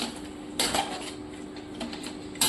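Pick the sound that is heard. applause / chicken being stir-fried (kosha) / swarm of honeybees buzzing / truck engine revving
chicken being stir-fried (kosha)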